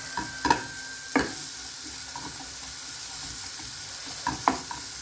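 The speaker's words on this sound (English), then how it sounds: "We're going to coat the onions in the spice mix." Onions being stirred with a spice mix in a frying pan for tarka rice, giving a soft steady sizzle with a few clear scraping knocks of the spoon against the pan near the start and end.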